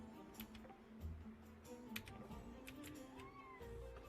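Pepper, a chatty pet cat, gives a faint meow somewhere in the room, low under quiet background ticking and tapping.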